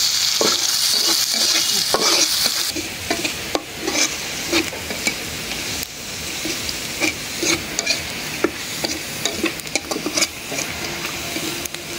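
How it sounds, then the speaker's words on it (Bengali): Onion and garlic fry in a pan with a steady, loud sizzle, broken by repeated scraping stirs. No voices are heard. "পেঁয়াজ রসুন ভাজা হয়ে গেছে, এখন ডাল দিয়ে দিই।"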